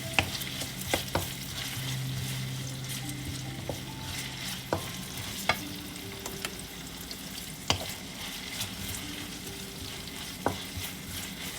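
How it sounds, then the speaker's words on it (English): Garlic sautéing in a pan with onions for a fish curry: a steady sizzle of frying runs throughout, broken by sharp clicks and scrapes of a utensil stirring against the pan, close and alone with no talk. "I'm going to be adding in my garlic. And I'm going to saute this a little bit."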